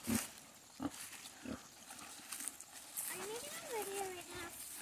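Piglets being moved to a new paddock grunt and squeal in short bursts, with a longer rising squeal near the end, fairly faint under people talking nearby.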